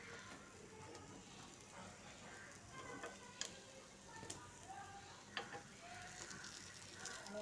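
Moong dal appe sizzle faintly in an appe pan as they are flipped, a low continuous frying hiss broken by a few sharp metallic clicks from turning them.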